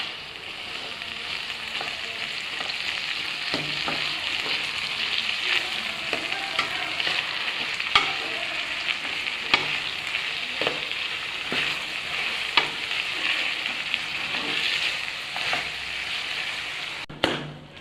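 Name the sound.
tomatoes sautéing and being stirred in a pan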